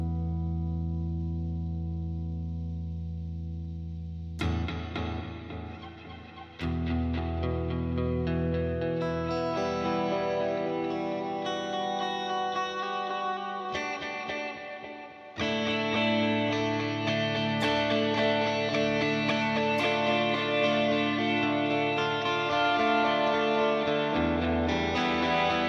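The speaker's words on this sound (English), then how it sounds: "Let's bring in a little bit of reverb on here now." Processed instrument through the Echo Cube acoustic delay app by AudioThing on iOS, with reverb added: sustained layered tones with a washy, echoing tail, loud and continuous, with sharp re-entries around five and fifteen seconds.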